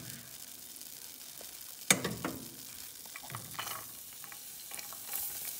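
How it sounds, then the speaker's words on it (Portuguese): Onion frying in butter in a pan for a ham and cheese pasta, a quiet continuous sizzle with a sharp clink as it goes in and light stirring scrapes afterward. "E agora vou colocar a cebola."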